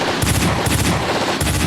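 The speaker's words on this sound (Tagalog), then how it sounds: "Keep on firing, men!" Machine gun fire rattles loudly in a Tagalog drama battle scene, with rapid repeated bursts of shots close up and a few brief gaps between volleys.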